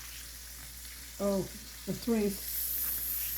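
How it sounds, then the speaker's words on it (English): Chicken fries in a small amount of olive oil in a pan, giving a soft continuous sizzle, with a few brief spoken words over it near the start. "this is when I'm frying it in this olive oil"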